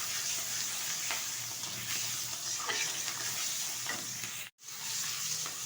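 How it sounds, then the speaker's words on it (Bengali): Fish oil and shrimp fry in a pan, giving a steady dense sizzle with faint scraping stirs, broken by a brief cut to silence near the end. "এদিকে ভালো করে দিয়ে পরিষ্কার করে নিয়েছি মাছের তেল আর চিংড়ি মাছ। একটু ভালোভাবে ভেজে নেব।"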